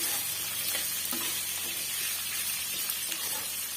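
Onion and garlic sauté in a pan for a Tamil pirandai chutney, giving a steady, close sizzle with faint stirring scrapes and no voices.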